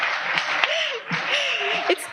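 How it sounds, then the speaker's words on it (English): Audience applause at a MAPS psychedelics conference: a steady wash of many hands clapping fills the room, with a voice speaking over it throughout. "it's really nice that you're applauding me"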